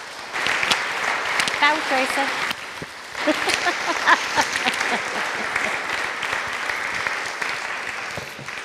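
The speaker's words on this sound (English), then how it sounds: "can we show the appreciation with a round of applause?" Audience applause closing a talk on bees at an open meeting, sustained clapping from a modest crowd with a few voices speaking over it early on.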